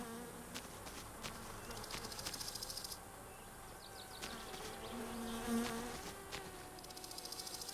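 A housefly buzzes in the car-building game My Summer Car, a continuous droning whine that swells and fades as it moves around, with faint intermittent clicks and ambient background underneath and no talking.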